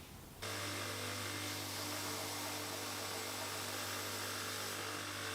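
A power saw runs continuously while cutting the angle on a leg for a double-stacked Jarrah and Beech wooden box, a loud, steady close-up whine that starts abruptly and holds for several seconds.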